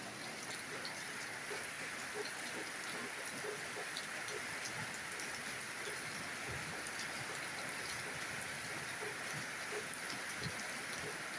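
Steady rain falling outside a house doorway, a dense continuous hiss of drops on surfaces, even and unbroken, with no voices.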